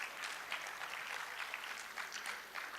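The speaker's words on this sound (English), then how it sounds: "So you should clap our hands for yourself that we should live long." Audience applause at the Ghana College of Physicians and Surgeons annual general and scientific meeting, a steady dense patter of many hands clapping at moderate volume with no talk over it.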